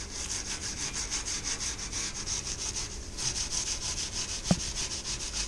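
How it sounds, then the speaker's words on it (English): Steady back-and-forth scrubbing of a metallic scrub with toothpaste on a pan, a continuous rough rasping rub at close range with a small knock near the end. "Or is it maybe because of this metallic scrub?"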